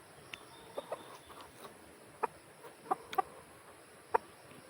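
Chickens give a scatter of short, faint clucks and calls, sparse and irregular over a soft background hiss, with no talking.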